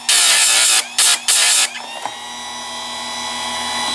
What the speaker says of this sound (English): This is a Harbor Freight chainsaw sharpener.